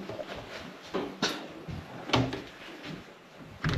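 A door is opened by hand, giving a few soft knocks and thuds of a latch and panel, fairly quiet and close, with a light rustling in between.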